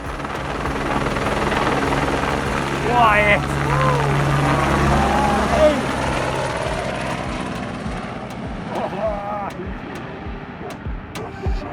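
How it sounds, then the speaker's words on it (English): A helicopter performing a deep nose dive, its loud, steady rotor and engine roar building, peaking with a rushing swell, then gradually fading into the distance. "Watch this helicopter performing an instant deep nose dive in Italy."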